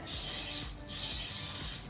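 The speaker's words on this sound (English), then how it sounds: "And it tells you to grease it, so I'm going to spray it." Two short hissing bursts of aerosol grease sprayed onto a pie plate, back to back with a brief pause between, close up and fairly quiet.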